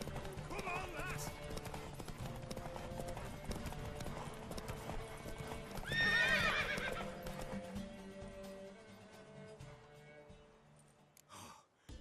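A horse galloping with steady hoof clip-clop and a sharp neigh midway in The Witcher 3 video game, set under music and background voices, fading toward the end.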